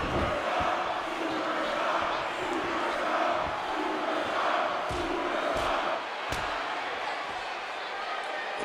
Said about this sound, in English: The Skullcrushers cheering him on.